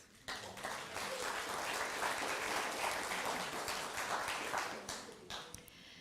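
A Sunday service congregation claps after a meditative song, a soft but full round of applause that swells quickly, holds steady, then thins out near the end.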